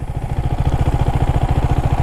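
Husqvarna Svartpilen 401 motorcycle with its single-cylinder engine idling up close, a steady, loud thumping pulse with even rhythm and no talk over it.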